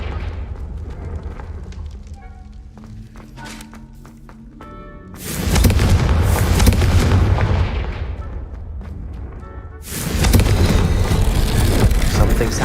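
Confringo fire spell exploding in the game Hogwarts Legacy, heard as two loud booming blasts with rumbling tails that follow quieter ambient tones and faint chimes.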